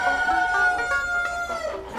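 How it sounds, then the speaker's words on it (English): White leghorn chickens cluck while a rooster crows among them at a county fair, loud and close, overlapping harmonic calls and clucks with no talking. "These look like ordinary chickens, but they aren't just any run-of-the-mill animals."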